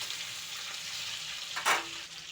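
Tomatoes and green chilies sizzle in an oil-filled pan for a vegetarian ghugni, a steady frying hiss with one brief louder scrape of stirring near the end, no voices.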